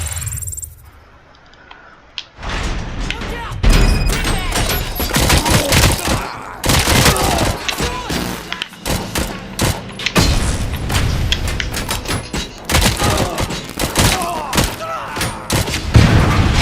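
Rapid gunfire bursts and booming shots from the video game Rogue City, starting after a quiet opening and continuing in loud, dense volleys with thuds and mechanical clatter.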